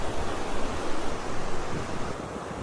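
A river flows steadily, a dense, even rushing of water with no breaks, heard at moderate loudness without any voices.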